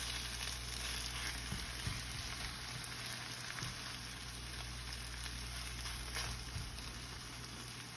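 Corned beef sautéing in a pan gives a steady, close sizzle and crackle that runs evenly for the whole stretch, with no voices.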